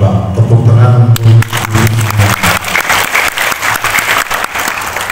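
Applause from an audience at a gathering of junior high school teachers in Lebak Regency, with a regional secretary present. A sustained tone fades and loud, dense clapping takes over, steady through to the end.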